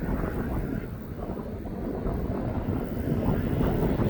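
TUI jet aircraft taxiing at East Midlands Airport, a low steady rumble heard from a distance and mixed with wind buffeting the microphone.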